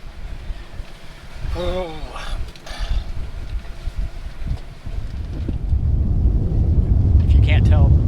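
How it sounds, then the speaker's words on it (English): Wind rushes steadily over a sailboat on open water. It rises to a louder, fuller roar in the second half, with creaks of rigging and mechanisms and a brief voice exclaiming early on. "now the wind is not dying, but it's definitely changing directions and we're gonna have to drop the sail again"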